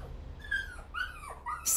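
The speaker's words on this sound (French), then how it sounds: "C'est le bruit d'un chiot qui pleure." A puppy whimpers in a few thin, rising and falling cries, close by and soft, over a low background hum.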